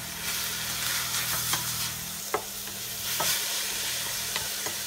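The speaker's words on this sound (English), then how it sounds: "Okay, let's give it a stir." Tomato sauce with dried basil and parsley stirred in a pan for stuffed manicotti, a soft steady sizzle broken by several sharp spoon scrapes and taps against the pan, no voices.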